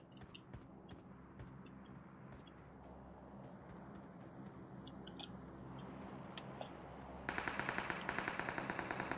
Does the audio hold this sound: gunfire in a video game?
yes